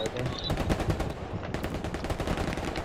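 Rapid bursts of machine gun fire in the World War II shooter game Hell Let Loose, loud dense automatic shots across the whole stretch with no talk.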